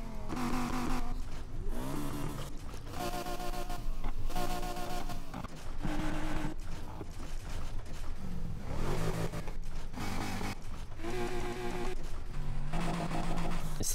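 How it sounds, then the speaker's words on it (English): An Aston Martin V8/V12 convertible in the Need for Speed Heat racing game revs repeatedly, its engine note climbing and dropping in several bursts with short gaps between them. The engine is close and fairly loud, and no one speaks. "Sounds like a muscle car engine in it."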